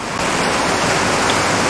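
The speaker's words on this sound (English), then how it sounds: "I hope the rain doesn't make too much noise" Rain pours down steadily outdoors near a wooded open area, a loud, dense, unbroken hiss of drops on surfaces with no voices.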